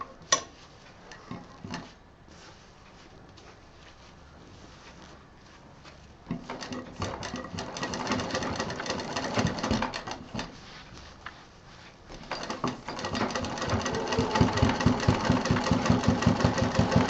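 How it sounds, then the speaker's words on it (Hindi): A sewing machine stitching a sling bag, starting with scattered ticks, then a steady mechanical whir that grows louder in two long runs. "यहाँ करीब 2 बार मशीन चलाएं ताकि ये मजबूती से सिल जाए।"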